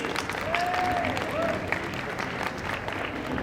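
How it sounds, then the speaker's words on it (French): Audience applause at a singing contest held during a geek convention, a steady broadband patter of clapping with crowd murmur that stays fairly even throughout, with a few faint whistles or vocal tones riding on top. "On l'applaudit"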